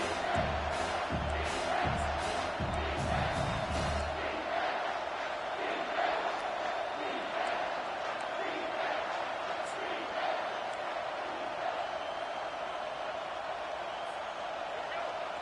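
Stadium crowd in the video game Madden, a constant roaring wash of voices and cheering that holds steady throughout, with a low thumping rhythm in the first few seconds.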